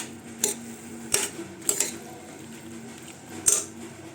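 A spoon knocks and scrapes against a pan at irregular moments while brinjal and potato are stirred and sautéed, with a quiet background hum between the sharp metallic clinks.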